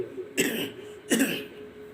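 Two distinct, close coughs about three-quarters of a second apart come from a person with a sore throat, cold and fever, with quiet in between.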